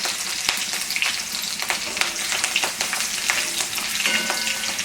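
Green chillies in large pieces and cumin seeds sizzle and spit steadily in hot oil in a home kitchen pan, a loud, continuous crackling fry with occasional sharper pops and stirring, no voices.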